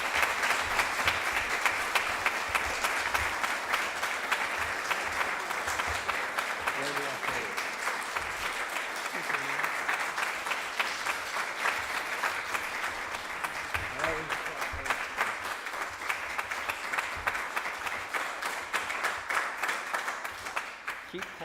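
Audience at an Eagle Scout court of honor keeps up long, sustained applause, a dense crowd of hands clapping steadily for about twenty seconds, with faint voices underneath.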